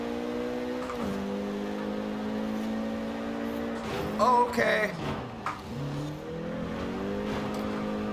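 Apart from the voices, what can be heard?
Renault Megane R26.R engine driving in Forza Horizon 4 video game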